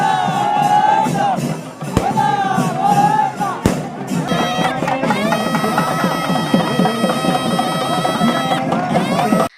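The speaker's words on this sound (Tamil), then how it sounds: "அப்போது கோவிந்தா கோவிந்தா என பக்தர்கள் பக்தி கோஷங்கள் எழுப்பிய படி கோபுர தரிசனம் செய்தனர்." Temple devotees at a Maha Kumbabishekam consecration ceremony raise loud devotional chants of Govinda, a dense crowd of voices shouting and cheering together, with music and general hubbub underneath.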